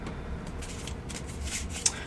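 Reading cards are handled and shuffled close by, soft papery brushes and riffles in a few quiet bursts with a sharp tap near the end, no voices.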